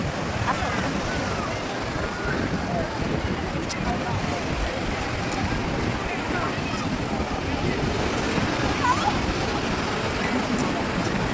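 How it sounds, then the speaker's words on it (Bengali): Sea waves break continuously on the beach at Digha, a steady broad roar of surf mixed with gusty wind buffeting the microphone, loud and unbroken throughout. "দেখো সুন্দর ঢেউ দিচ্ছে"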